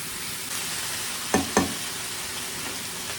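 Spinach sizzles steadily in a pan over lowered heat, a constant frying hiss broken by two brief clanks or stirring scrapes midway.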